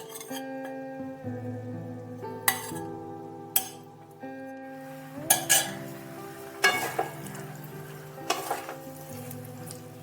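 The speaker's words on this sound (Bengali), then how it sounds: "মশলা একেবারে লেগে যায় সেভাবেই নাড়তে হবে" A spoon stirs spiced navratan korma vegetables in a pan, with several sharp clinks and scrapes against the metal over a steady tonal hum and faint frying.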